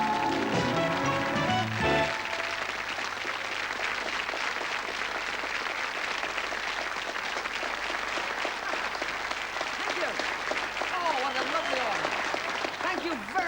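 Studio audience applauding on a 1981 BBC Christmas Day television show, with dense, loud, steady clapping filling the scene after a brief burst of music at the start.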